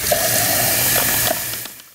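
Water runs briefly from a tap into a glass, a short bubbling gush that fades toward the end.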